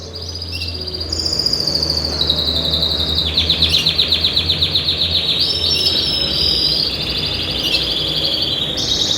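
Canaries sing in rapid, rolling trills and chirps, loud and near, layered over a faint low hum throughout.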